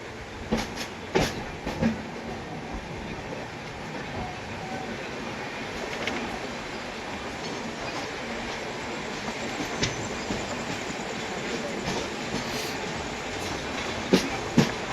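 The 12133 Mangalore Superfast Express pulls out of Panvel at night: a steady rumble of rolling wagons fills the whole span, with wheel clatter and a few sharp clanks and squeals standing out near the beginning and end.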